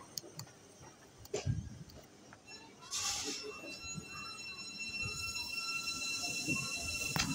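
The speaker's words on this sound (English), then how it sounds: "This Thameslink." A Thameslink train moves through Finsbury Park station with rhythmic wheel clicks over the rails and a rising metallic whine, growing steadily louder from a distance, with some people talking nearby.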